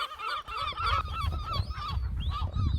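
Seabirds calling on the Isle of May, a dense chorus of harsh honking and squawking cries that overlap continuously, close and loud, with no speech.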